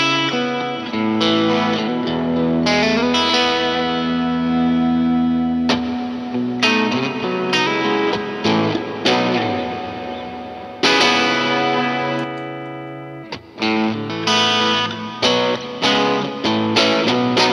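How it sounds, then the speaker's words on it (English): Guitar played through Hardwire RV-7 and TC Electronic Hall of Fame reverb pedals on the church setting, sustained distorted chords ringing out with long, lush reverb tails, loud and continuous without talk. "that's the comparison of the two reverb pedals"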